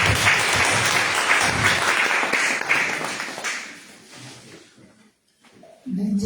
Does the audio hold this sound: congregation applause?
yes